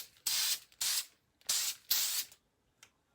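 Four quick bursts of hairspray hiss close by, separated by short pauses, followed by a faint final puff.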